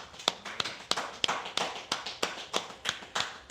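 Steady, evenly spaced hand claps, about a dozen sharp slaps at a brisk regular rhythm, close and fairly soft, with no other sound between them.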